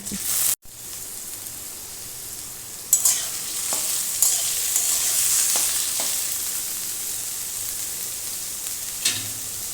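Boiled potatoes tumble into a hot frying pan already holding cumin, green chili and ginger, setting off a steady close sizzle with a few scraping stirs and clinks, no voices.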